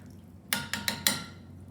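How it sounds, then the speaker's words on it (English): Four separate metallic clinks of a utensil against a pot while pumpkin beer mixture is stirred on the stove, quiet and evenly spaced, each with a brief ringing decay. "Just going to stir this in here."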